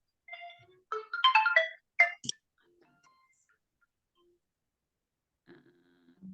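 A mobile phone ringtone plays a short burst of bright electronic melodic notes, then fades into near silence before a few faint tones return at the end.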